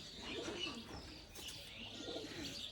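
Hiralal pigeon from Khulna cooing up close, with soft repeated low coos and a few faint chirps.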